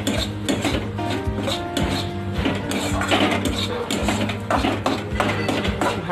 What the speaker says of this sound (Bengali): ভালো করে নাড়াচাড়া করে ভাজতে হবে।